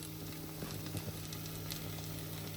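Mustard seeds tempering in hot oil in a home kitchen, a steady faint sizzle with soft crackles and pops running throughout, no voices.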